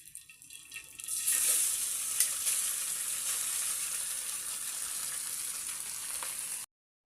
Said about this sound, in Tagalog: Salin na natin ang leftover rice guys.